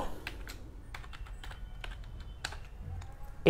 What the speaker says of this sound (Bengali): আমি এখন নোটপ্যাডের মধ্যে কোডগুলা লিখব।